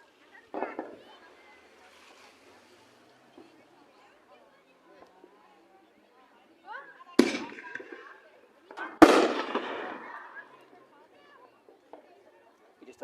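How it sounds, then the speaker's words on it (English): Fourth of July fireworks fired across an open field, a soft pop early on, then two loud sharp bursts a couple of seconds apart with crackling tails, people chattering faintly between them. "launches fireworks this way into the ground"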